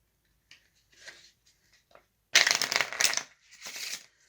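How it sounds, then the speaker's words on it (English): A deck of playing cards is shuffled by hand in short crisp bursts, a few light riffles at first and then a louder, longer ruffle and a final flurry, close and alone without talk. "I'm just going to shuffle the cards."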